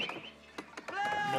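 Short sheep bleats in Age of Empires IV over a busy game soundscape with clicks and mechanical noises, fairly quiet, and a brief trace of voice.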